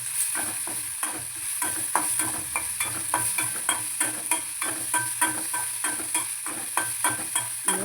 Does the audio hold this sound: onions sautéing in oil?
yes